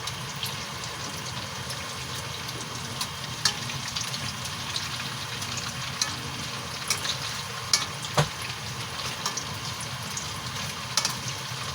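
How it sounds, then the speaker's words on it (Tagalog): Steady, crackling sizzle of fried tofu in a pan, continuous and close, broken by a few sharp clicks and pops as the pieces are flipped. "So, balikta rin po natin itong ating pinirito na tokwa po"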